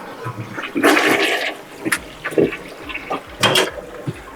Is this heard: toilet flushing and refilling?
yes